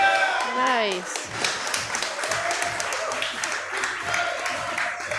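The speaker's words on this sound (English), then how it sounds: "A lot of friends cheering him on." Friends cheer and clap for a powerlifter pulling a deadlift at a USAPL meet, a dense crowd roar with scattered claps holding steady throughout, mixed with shouting voices.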